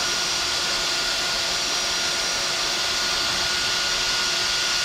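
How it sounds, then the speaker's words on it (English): A fine power sander works over a Nissan SR20 engine block, putting out a steady, high-pitched whirring drone that stays constant and loud from start to finish, with no talk. "We got the fine sander and go all around, the horn sander, and go all around and make it look nice and shiny now"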